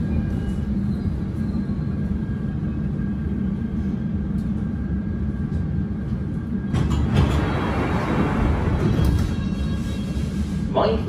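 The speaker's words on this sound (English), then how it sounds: "This is a Circle Line train via High Street Kensington and Paddington." A London Underground Circle Line train runs between stations with a steady low rumble and rattle, swelling to a louder rushing clatter partway through, while an announcement voice speaks over it.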